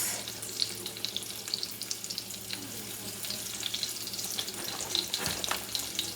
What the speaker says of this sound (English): we're getting the chicken put in the skillet here. You hear that sizzling?